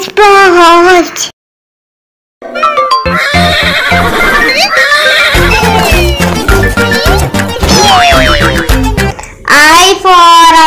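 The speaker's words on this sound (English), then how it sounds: "H for horse." A horse whinnies loudly in long, wavering neighs at the start and end, with clip-clop hoofbeats and bright musical backing in between, after a short silent gap near the beginning.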